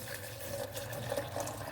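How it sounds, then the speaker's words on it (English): Ordinary tap water pours steadily into a blender jar already holding young maize, a continuous close splashing fill lasting under two seconds with no talk over it. "And then I'll add just normal tap water."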